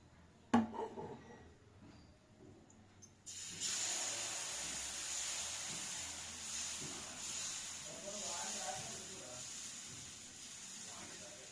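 Millet mix and wheat flour dosa batter hits a hot pan with a sudden loud hiss after a few quiet seconds, then settles into a sustained sizzle beneath a person talking.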